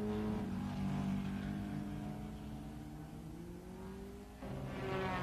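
Late-1950s Grand Prix cars race through the south curve at the Nürburgring in 1957, a loud, sustained engine roar with rising pitch as they accelerate, several engines layered together, a brief dip before the sound swells again.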